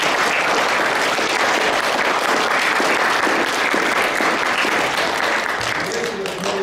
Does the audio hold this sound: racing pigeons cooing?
no